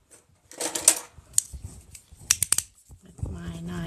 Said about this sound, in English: I'm gonna just cut this down the middle